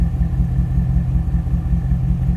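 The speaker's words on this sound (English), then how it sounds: "Nice little rumble out of the exhaust." A stock 1989 Chevrolet Corvette C4 convertible idles with a steady, smooth, low exhaust rumble, loud and close, pulsing evenly with no voices.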